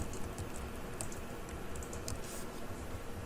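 Someone types a command on a computer keyboard, a quick run of soft, close clicks over a noisy hiss, steady for a few seconds with no talking.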